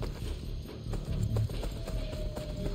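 A horse's hooves clip-clop at a steady trot in Assassin's Creed Brotherhood, rhythmic and fairly close over a low game background, with no talk.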